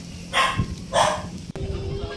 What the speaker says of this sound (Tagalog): may aso pa doon sa sa baba